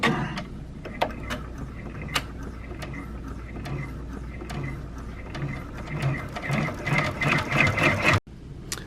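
A 6-needle embroidery machine sews a satin stitch appliqué onto a baby onesie, producing a rapid mechanical clatter of needle strikes and ratcheting gears, close and continuous, with sharp clicks before it cuts off near the end.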